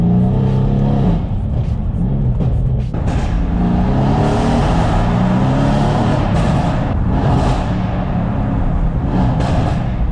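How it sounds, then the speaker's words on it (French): Loud exhaust roar of a 510-horsepower Mercedes C63 AMG with a stock system, driven through a tunnel, a sustained heavy engine drone close up with no pauses and no clear separate pops. "on entend grave l'échappement"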